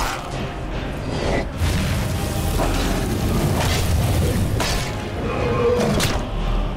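A bomb explodes in the video game Skyrim, a loud sustained rumbling boom with low roar that swells and persists for several seconds, with no one speaking.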